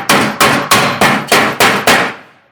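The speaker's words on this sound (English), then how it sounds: "You can use any number of different hammers and really any number of techniques." A metalworking hammer strikes 24 gauge steel seven times in an even, steady rhythm, each blow a loud, close, ringing clang that fades quickly, with no talking.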